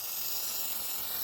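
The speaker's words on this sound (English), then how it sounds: "Spray this bowl out a little bit." Spray cleaner hisses in one continuous, loud, broadband burst as it blasts out the carburetor bowl of a Harbor Freight 2000-watt generator, heard alone at close range.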